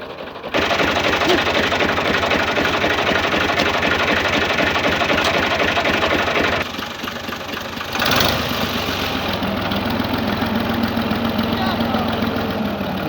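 A tractor engine idles and labours steadily up close as the machine climbs forward, a loud continuous low knocking drone that dips briefly midway before settling into a steady idle.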